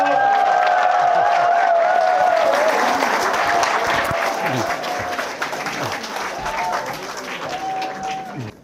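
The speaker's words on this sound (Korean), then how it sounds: "그러니까 박수를 크게 치셔야 된다." A lecture audience gives loud, sustained applause with some cheering and whoops for a priest being introduced, a steady roar of clapping that thins slightly toward the end.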